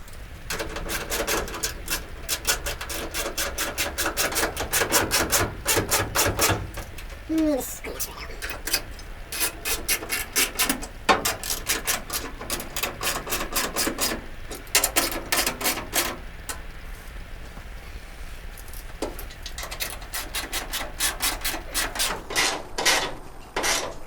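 A 1969 Dodge Charger dashboard has its bolts tightened during installation. Rapid ratchet clicking comes in dense bursts with brief pauses, close and fairly loud, over a steady background of scraping and rubbing.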